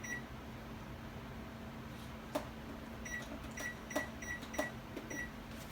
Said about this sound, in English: I better set my timer for 25 minutes or it'll burn.